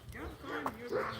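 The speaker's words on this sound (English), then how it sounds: "You hear that dog, Zeus?" A dog barks and yips outdoors on a street, fairly close by, mixed with a voice talking.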